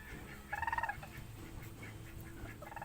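A male turkey gives a short, rapid gobble, close by and moderately loud, followed by quieter scattered bird calls and background noise.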